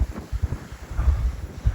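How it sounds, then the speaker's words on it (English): Gusty coastal wind buffets the microphone in low, uneven rumbling bursts, loud and close, with no voices. "It's very windy."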